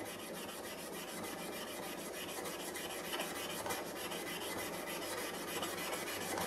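Steel chipbreaker from a hand plane being polished on a sharpening stone, a continuous dense rasping rub that stays close and even throughout with no talk.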